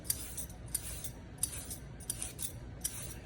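A vegetable peeler scrapes the skin off a carrot in short rhythmic strokes, about eight light swishes close by at a steady pace over a faint room hiss.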